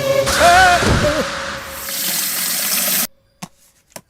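Water gushes and pours loudly and steadily for about three seconds, then cuts off abruptly, followed by a couple of small clicks in near silence.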